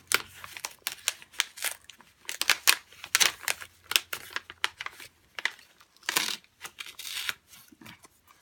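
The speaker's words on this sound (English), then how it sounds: "just using your snips and cut all these excess little pieces off" Excess paper scraps trimmed with snips for a sunburst craft project, heard as a close, irregular series of crisp snipping and crinkling sounds in clusters, fairly loud, with no talking.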